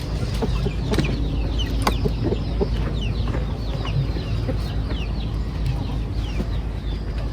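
Chicks peep and hens cluck steadily at feeding time on a farm, a busy close chorus of high chirps and short clucks over a low background hum, with no talking.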